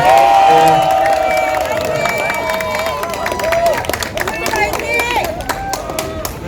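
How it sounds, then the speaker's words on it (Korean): A large crowd at an outdoor candlelight protest rally in Suwon, South Korea, claps and cheers loudly, the applause rolling on steadily with music and an amplified voice mixed in. "큰 박수 한번 부탁드리겠습니다"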